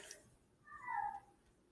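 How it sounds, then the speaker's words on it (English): A single cat gives one plaintive, drawn-out meow of about half a second that sounds sad, moderately loud against quiet room noise. "that's the saddest cat in the world"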